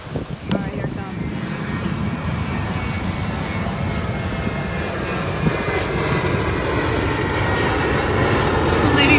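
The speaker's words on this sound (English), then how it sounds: "So we got another plane. All right, here it comes." A fixed-wing airplane roars overhead near a beach, its broad engine noise steady and loud and building slightly over several seconds, with no voices.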